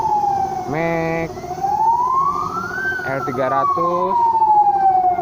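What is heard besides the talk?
ambulance siren passing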